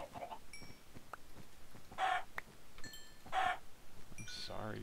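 Chickens clucking in the video game Minecraft, several short repeated clucks and squawks at moderate volume, spaced unevenly over a quiet background.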